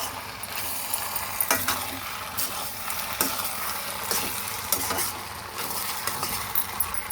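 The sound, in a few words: stirring pasta snack mixture in pan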